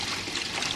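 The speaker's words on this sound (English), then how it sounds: "I'm putting hot water in." Hot water poured steadily into a vessel in a domestic setting, a continuous close splashing trickle with no break throughout.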